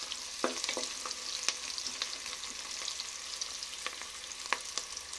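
Onions fry in a pan until brownish for a hotel-style donne biryani, a close, steady sizzle broken by scattered crackles and stirring scrapes, with no voices.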